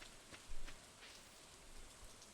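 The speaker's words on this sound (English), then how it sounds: "This is the green rain. This is a part of the Stardew Valley update." Green rain falls in the video game Stardew Valley, a quiet, steady patter of rainfall that runs throughout with a few slightly louder bursts of drops.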